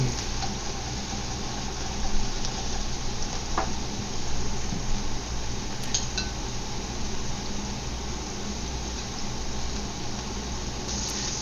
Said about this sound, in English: you want to flip the shrimp over and cook the other side